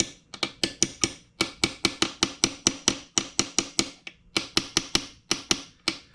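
Sharp metal taps from a punch seating a Woodruff key onto a Vespa smallframe engine shaft, delivered in rapid, steady bursts of several strikes with brief pauses between groups, close and crisp.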